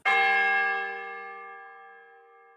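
A single bell chime strikes once, bright and clear, then rings out and slowly fades away.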